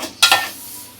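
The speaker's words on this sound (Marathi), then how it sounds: "चांगले परतव" Mango raita mixture being stir-fried in a pan at home, Kokan-style cooking with Hapus mangoes, heard as two short scraping stirs close up, then a quiet gap and another sharp stir, with no talking.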